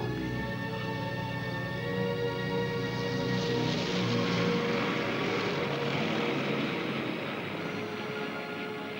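A propeller airplane engine drones steadily in flight, a loud, even cabin-level hum with a constant tone that never lets up.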